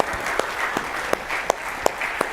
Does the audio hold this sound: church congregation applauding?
yes